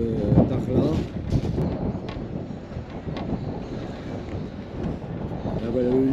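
Strong wind roars and buffets the microphone in gusty rumbles while people talk close by, on a motorcycle road trip in the desert between Boujdour and Dakhla.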